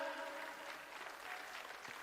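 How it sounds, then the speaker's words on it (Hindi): Applause at the Third President Cup All India Karate Championship event, a steady wash of hand clapping from an indoor crowd that stays fairly even and somewhat distant throughout. "तो मैं चाहूंगा एक बार इन सभी के लिए जोरदार तालियां हो जाएं"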